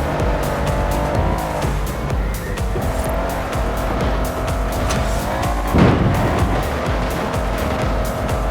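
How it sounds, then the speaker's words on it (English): A 6x6 off-road vehicle in the racing game Forza Horizon 4, with its speed limiter removed, holds a loud, continuous engine roar with tire noise and a brief surge near the end, and no talking. "With that speed limiter removed and with the Stig behind the wheel, it'll do 125 miles an hour"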